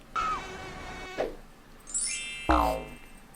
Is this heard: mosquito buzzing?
yes